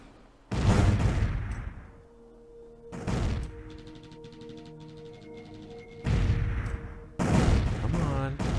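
Spaceships firing weapons in the space strategy game Distant Worlds Universe: loud booming volleys burst out in three separate clusters, with ringing tonal hums and faint electronic effects lingering in the gaps between them.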